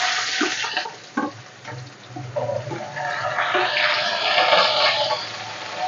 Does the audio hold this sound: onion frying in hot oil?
yes